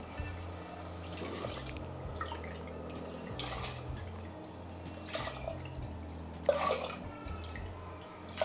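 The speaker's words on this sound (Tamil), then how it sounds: "இப்போ 5 கப்பு தண்ணி வைக்கணும்." Water from a cup pours and splashes into a cooking pot while making white kuska rice, a steady trickling stream with a few brief louder splashes, close and alone with no talking.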